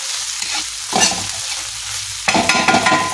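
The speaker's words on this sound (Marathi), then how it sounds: "हे एकदा चमच्यानं परतून घ्यायची" A spoon scrapes and stirs steamed okra grits in a pan, giving uneven bursts of scraping and sizzling over a low, steady hiss of frying.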